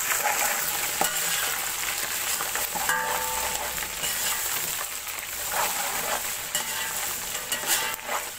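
Ginger paste sizzles in hot oil with browned onion and cumin for an achari pulao, a steady loud frying hiss broken by occasional stirring clinks and scrapes, with no talking.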